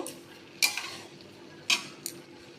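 Basmati rice pulao with sugar is stirred in a pan: three distinct scraping clatters of the spoon against metal, spaced apart, over a quiet background hiss.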